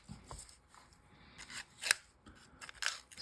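Paper coin-roll wrapping of a roll of brown cents being torn and unwrapped, heard as soft crinkles with two sharp, close paper rips standing out against a quiet background.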